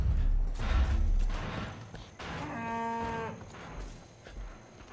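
A cow in the game Far Cry 5 lets out one loud, drawn-out moo close by, rising above a low rumble of game ambience and soft thuds.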